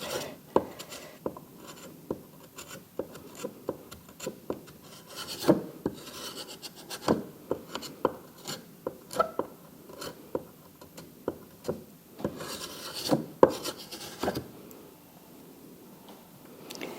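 A metal paint scraper rasps across the surface of a plaster mould, smoothing it, in a ceramics workshop. The short, scratchy strokes come in a steady, uneven rhythm, close and fairly quiet, with no talking.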